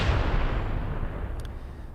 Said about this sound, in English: Let's give another explosion for the spoilers, because these are dangerous spoilers,